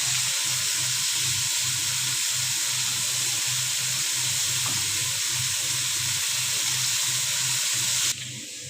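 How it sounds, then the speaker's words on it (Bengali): Shrimp fry in a pan as a continuous, loud, hissing sizzle that stays steady throughout, then cuts off abruptly near the end. "আমার চিংড়িটা ওখানে ফ্রাই হচ্ছে"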